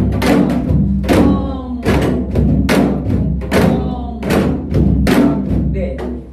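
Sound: janggu drum rhythm practice

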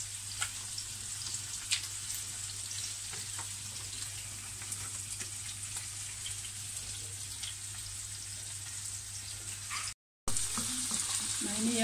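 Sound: stirring chicken sausage and minced meat frying in pan

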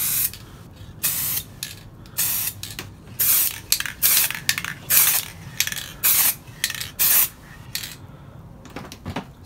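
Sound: spray paint can spraying fog light

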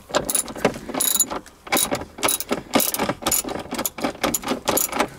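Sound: ratchet wrench removing 12 mm bolts from Hyundai shifter

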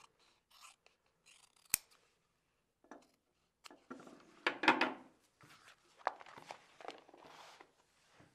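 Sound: cutting a strip of kangaroo hide

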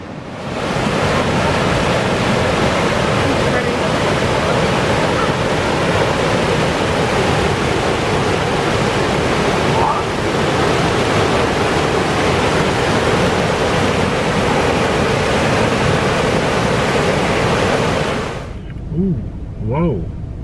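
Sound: waterfall at Fall Creek Falls

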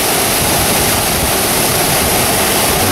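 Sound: waterfall

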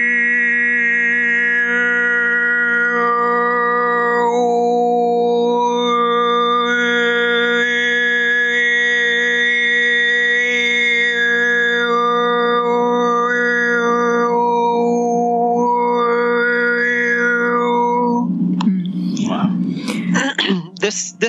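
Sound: overtone throat singing demonstration

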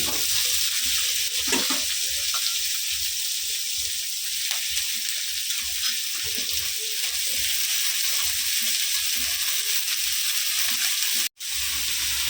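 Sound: greens added to beans cooking in a pan

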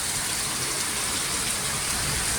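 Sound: heavy rain

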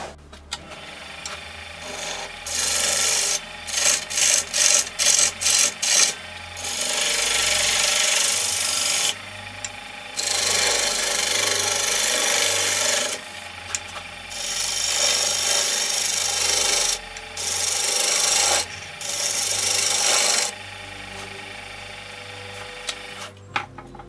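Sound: skew chisel smoothing pine vessel on wood lathe

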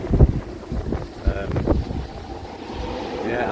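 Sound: strong gusty wind at anchor on a sailboat

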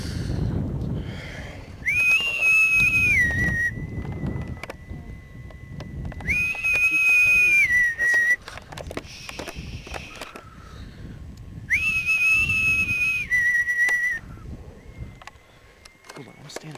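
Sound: people whistling outdoors at night

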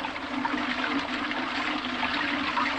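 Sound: toilet flushing

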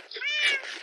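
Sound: cat meowing in the video game Minecraft

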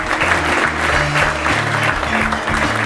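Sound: applause

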